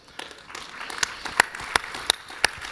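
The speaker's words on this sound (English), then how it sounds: "a round of applause for all of our finalists" Audience applause for the finalists of an aerospace space pitch competition, a sustained crowd clapping with scattered louder individual claps standing out, swelling slightly toward the end.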